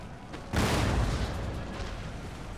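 Artillery fire on a Total War: Empire battlefield: one heavy, close cannon blast booms out and decays into a long rumbling roar of distant gunfire.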